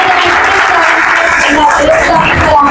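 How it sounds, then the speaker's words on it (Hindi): A church congregation applauds during a pastor's service, a dense, steady wash of clapping held at full strength throughout with voices mingled underneath. "आपकी जोरदार तालियों में मैं खुदा के बंदा को दावत दूंगी"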